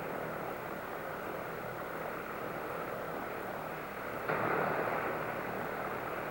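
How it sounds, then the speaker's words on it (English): Military observation aircraft in flight, its engine drone steady and continuous, swelling slightly louder near the end as it draws closer, with no talk. "right on schedule, the aircraft approaches"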